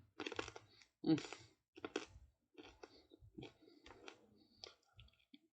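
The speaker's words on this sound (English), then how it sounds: "we now have corn nuts, and they're crunchy. They're loud." Close, loud crunching as someone chews corn nuts, with a series of sharp bites and grinding chews separated by short pauses.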